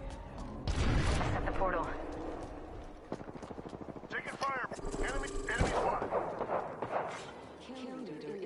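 Gunfire in a video game, rapid bursts of shots and sharp cracks scattered through the clip amid combat noise, with a voice talking over it.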